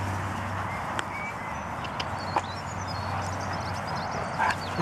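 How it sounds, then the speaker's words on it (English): A golden retriever barks faintly a few times in the distance over a steady outdoor background hum. "What are you barking at?"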